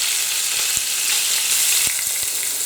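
Beef and cinnamon meatballs fry in a pan with a steady, close hiss and sizzle, broken by a few soft clicks as they are turned.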